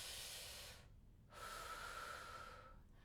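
A slow, deep diaphragmatic belly breath, heard close as a long airy inhale, a short pause, then a steady hissing exhale.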